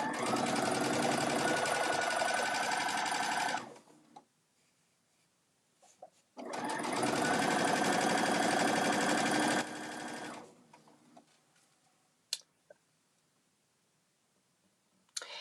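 A sewing machine runs fast, loud and close in two long bursts while quilting a bag handle, with quiet pauses and a few small clicks between runs.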